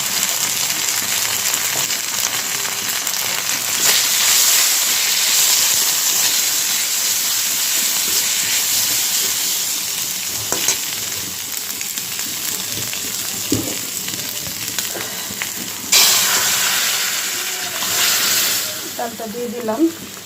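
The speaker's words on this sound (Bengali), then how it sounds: "এখন একটু 1 চামচ জিরার গুঁড়া দিব।" Cumin powder, dried chillies, fenugreek, cumin seeds and ginger paste fry in hot oil for a fish-head and black gram dal, making a loud, continuous sizzling hiss with occasional stirring scrapes.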